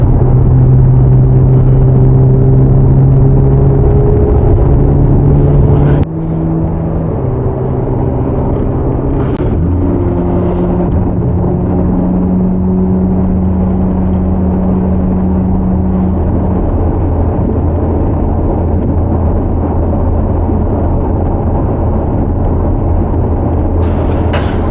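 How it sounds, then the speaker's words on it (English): A 2025 Corvette Z06 supercar engine drones steadily while driving, with a low sustained rumble and tonal hum that shifts pitch once, as if through a gear change, then holds near and loud throughout with no talking. "The 2025 Corvette Z06, America's answer to the world's supercars."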